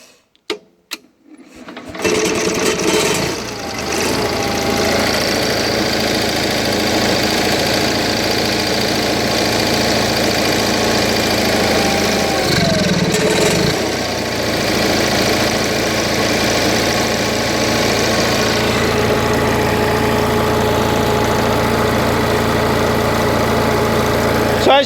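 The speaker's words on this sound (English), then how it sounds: "So as you can hear, hopefully, that's a steady sound, steady RPM, no RPM fluctuations." An Onan 4 kW generator starts with a few sharp clicks and cranking, then settles into a loud, steady mechanical drone at constant RPM that runs unbroken for about twenty seconds.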